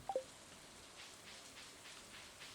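Soft, quiet rain in Stardew Valley, a faint steady patter and drizzle with a couple of brief game chimes at the start, no voices.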